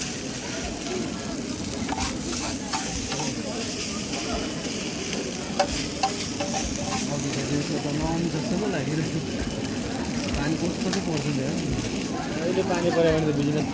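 Food fries in hot oil in a busy cooking setting, a continuous sizzle with stirring and scraping underneath that holds steady throughout.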